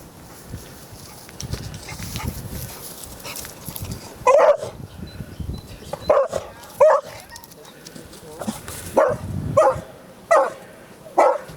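Search and rescue dogs bark in sharp, loud bursts during outdoor training, with repeated barks spread across the second half between lower background noise and a voice talking.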